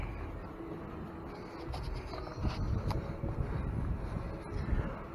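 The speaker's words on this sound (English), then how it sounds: "Wind." Wind buffets an AKASO EK7000 Pro action camera microphone outdoors, producing a low, rumbling roar that swells and gusts throughout, with faint higher background noise.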